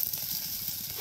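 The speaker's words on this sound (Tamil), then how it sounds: "வெங்காயம் நல்லா சவரட்டும்" Onions and green chillies fry in hot oil for a village-style paniyaram kuzhambu, giving a steady, close sizzle and hiss that runs unbroken, with no one talking.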